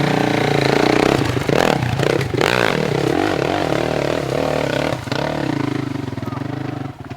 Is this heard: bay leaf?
no